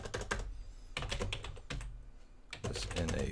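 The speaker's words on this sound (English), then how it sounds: "I am typing this." Close computer keyboard typing comes in quick bursts of clicky keystrokes separated by short pauses, fairly quiet, with no speech.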